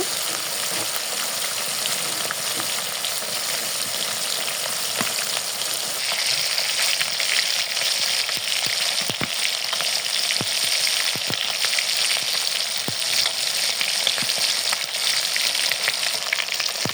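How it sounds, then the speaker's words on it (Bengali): Fish frying in hot oil in a pan, a steady close crackling sizzle that grows a little brighter partway through, broken by occasional light ticks and pops, with no talking. "দেখুন কত সুন্দর মাছ ভাজা হয়ে আসতেছে আমি দুই পিঠ সুন্দর করে ভেজে নিব"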